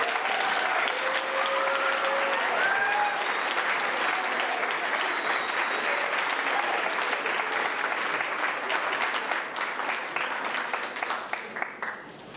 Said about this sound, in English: Let's give our eighth graders a round of applause.